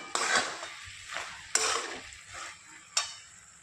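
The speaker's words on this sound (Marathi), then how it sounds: "आपल्याला ही भाजी शिजेपर्यंत असं 2-3 मिनिटात झाकण उघडून हलवत राहायची आहे" Pumpkin curry is stirred in a pan after the lid is lifted, giving several distinct scraping strokes over a soft sizzle, close and fairly clear with short pauses between stirs.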